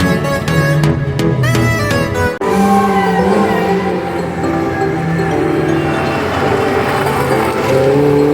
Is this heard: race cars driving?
yes